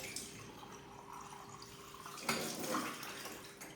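Water sloshes and drips faintly while a kettle is rinsed in a home kitchen, with a short splash partway through.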